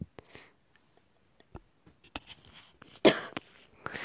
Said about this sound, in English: Just got a bit of a cough.